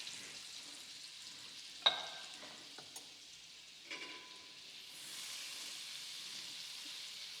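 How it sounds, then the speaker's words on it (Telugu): Butter melts in hot oil in a pan while making spaghetti sauce. A quiet, soft sizzle is broken by a single sharp clack early on and a few light knocks, then the hiss swells a little toward the end. "దాంట్లో కొంచెం బటర్ వేస్తున్నాను నేను."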